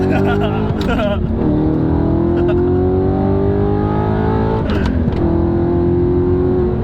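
A first-generation Audi R8's engine revs hard and climbs in pitch as it accelerates at full throttle, with a brief drop at each gear shift, loud and close.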